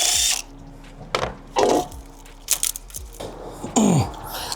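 Ratchet wrench removing a 10 mm bolt from the valve cover area of a 2007–2011 Toyota Camry engine: short bursts of clicking and metallic tool clatter at close range, broken by pauses, with no voices.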